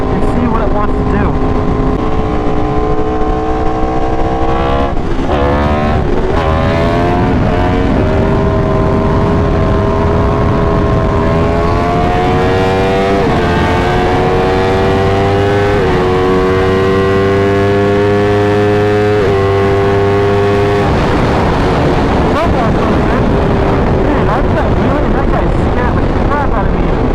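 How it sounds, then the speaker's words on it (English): An Aprilia motorcycle engine runs loud and close while the bike is ridden, its revs climbing and dropping through repeated gear changes with steady wind rush, and someone talks over it at times. "So I have to go out and actually ride the bike and see what it wants to do."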